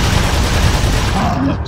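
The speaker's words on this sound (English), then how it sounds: "Exactly why I bought the TMP. Rapid fire." Rapid automatic fire from a TMP submachine gun in Resident Evil 4, a dense, continuous burst of loud, close gunshots that holds steady for nearly two seconds and thins out briefly near the end.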